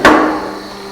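A hammer blow on a fly ash brick making machine gives a single sharp, loud metallic strike that rings and decays over almost a second.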